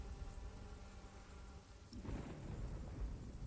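Rain falls steadily in The Pillars of the Earth video game, then a deep rumble of thunder rolls in and swells, continuing as a heavy low roar without any voices.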